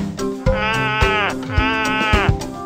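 A sheep bleats twice in long, wavering cries, loud and close, with a short sharp sound between them, in a children's nursery rhyme.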